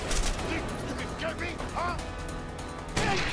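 Enemy gunfire in the video game A Way Out, a burst of sharp shots and crackling impacts mixed with game sound, with a louder blast near the end.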